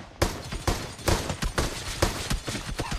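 Gunfire in the battle royale game BGMI, with a rapid burst of shots repeating at a steady pace for several seconds. The shots are loud and sharp and stand alone with no talk.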